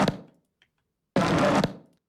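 Tom-like percussive hits made from Korean barbecue cooking audio: a brief decaying thud, then after a short gap a denser half-second burst that cuts off and fades quickly.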